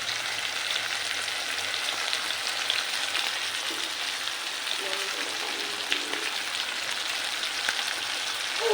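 Potatoes with ground spice paste, salt and turmeric fry in a pan with a dense, steady, even hiss that stays close and continuous throughout.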